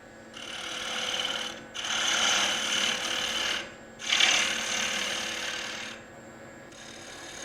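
Wood being turned down from the top of a lathe-turned wooden wine caddy: a continuous scraping, hissing rasp that swells in several long passes over a steady low machine hum, with no voices.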